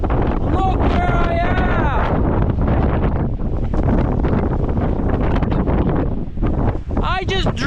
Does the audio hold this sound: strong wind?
yes